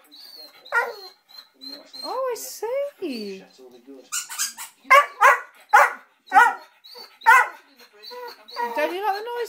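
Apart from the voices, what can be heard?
Soft Coated Wheaten terrier barking at squeaky toy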